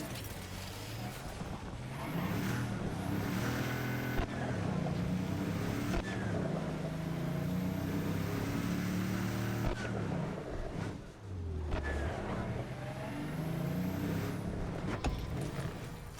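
A car engine in the video game Cyberpunk 2077: Phantom Liberty revs and drones continuously, pitch rising and falling with gear shifts, loud and close, briefly dipping midway before climbing again.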